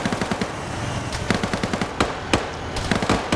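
Rapid automatic gunfire from a military video game rattles in fast repeated bursts, loud and dense, with a few heavier single shots mixed in and no voices.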